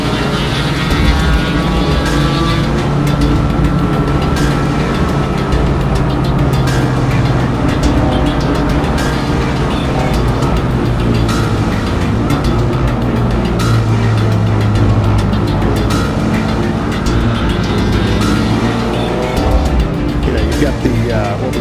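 Audi TT 225 race cars at speed on a rain-soaked circuit on a Sunday morning, loud engines droning continuously with tyre spray and hiss, passing close and steady throughout, with a commentator talking over them.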